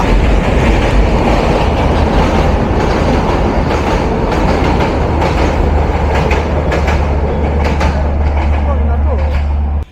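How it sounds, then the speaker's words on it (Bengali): A long passenger express train rumbles loudly and steadily past at close range, wheels clattering over the rails with a constant low roar for the whole stretch. "এরপরেই কিন্তু আসবে পশ্চিমের ননস্টপ বনলতা"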